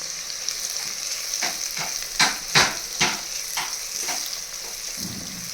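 Black masala and turmeric roast in a mud pot with a soft, steady sizzle, punctuated by a few louder scraping strokes of stirring near the middle.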